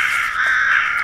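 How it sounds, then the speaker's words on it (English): A crow gives one loud, harsh, drawn-out caw lasting about a second, close and clear with no other sounds. "Oh, these are the calling birds."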